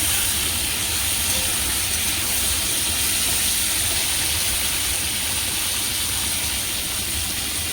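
Cumin seeds tempering in hot oil for a colourful vegetable curry give a steady, broad hiss and sizzle that runs evenly throughout without a break.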